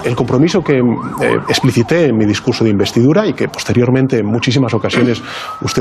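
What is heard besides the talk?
police sirens in the background of a TV interview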